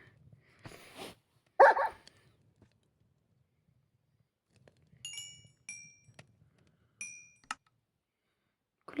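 Minecraft pet dogs bark in a few short sharp yips, then high game chimes ring out in quick succession, all fairly clean and close with no talk over them.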